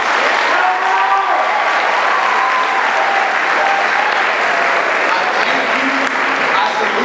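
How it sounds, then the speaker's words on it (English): A large crowd at a Teach For America Atlanta Institute closing ceremony bursts into loud, sustained applause that fills the room throughout, with cheers and whoops rising over the clapping. "Give yourselves a round of applause."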